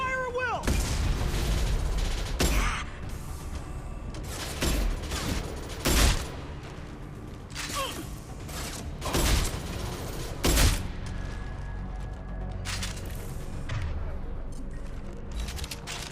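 Dense gunfire from a Mass Effect 2 video game battle rattles on for the whole stretch, with sharp loud shots and heavy bursts over a constant roar of combat.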